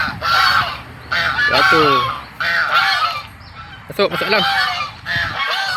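Geese honk loudly and repeatedly at close range in harsh bursts, while a person speaks briefly in between.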